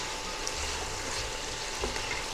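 Duck gumbo ingredients are toasted in a pot while being stirred, giving a steady, soft sizzle and fry with faint scraping from the stirring throughout.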